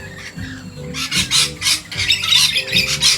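Wild birds at a bird sanctuary squawk repeatedly in harsh, rhythmic bursts, several loud calls overlapping at close range with no talking.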